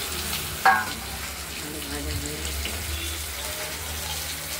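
Potatoes and tomato fry in a pan for a rohu fish curry, a continuous close sizzle with a sharp metallic clink near the start and light stirring throughout.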